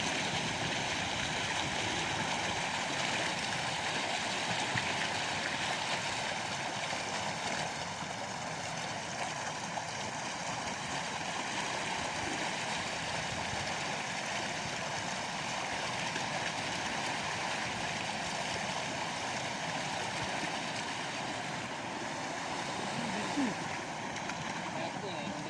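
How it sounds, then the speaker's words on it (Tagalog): Strong, deep stream water rushes steadily outdoors at a spot used for catching tilapia, a dense continuous roar that holds unchanged for about twenty-five seconds. "Yan, ang lakas ng tubig dito."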